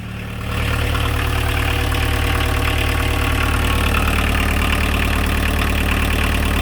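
A van engine idles steadily at close range, a low, even rumble with a faint knocking rhythm that starts after a brief quiet moment and holds unchanged to the end, with no talking.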